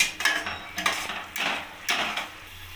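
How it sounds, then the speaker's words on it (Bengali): A spatula clanks and scrapes against a wok as masala with coriander leaves is stir-fried for a cauliflower-and-potato omelette curry, with several close metallic knocks and scrapes over a faint sizzle. "এবার আমি মশলাটা ভালোভাবে কষিয়ে নেব"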